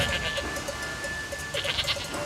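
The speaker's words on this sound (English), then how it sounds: "the distress bell he had heard was only some goats safely crossing the line" Goats bleat repeatedly as they cross a railway line in a Thomas & Friends cartoon. The bleats are fairly faint, mixed with a light rhythmic ringing like goat bells, and continue steadily without talk.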